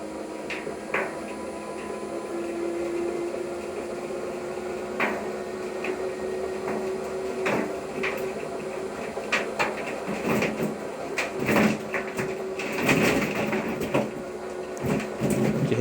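A honey extractor spins at full speed, thrown off balance after a frame blowout, giving a steady motor whine under repeated knocks and rattles as the spinner strikes the things around it.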